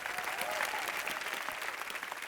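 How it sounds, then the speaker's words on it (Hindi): A studio audience gives a lively round of applause for actor Pulkit Samrat on a comedy talk show, with dense clapping and faint crowd noise and a brief whistle-like tone. "जोरदार तालियां हो जाओ भैया पुलकित सम्राट के लिए।"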